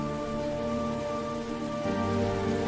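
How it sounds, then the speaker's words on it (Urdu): Rain falling on the ground, a steady hiss of drops that runs continuously and fairly loud throughout, with a slight shift in texture partway, no voices present. "اس کے بعد زمین پر بارش نازل ہوگی"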